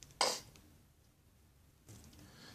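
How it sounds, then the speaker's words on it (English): A congested person gives a single sharp sniff or snort at the start, close to the mic, followed by quiet breathing and room noise. "Sorry for the sniffling and the snorting."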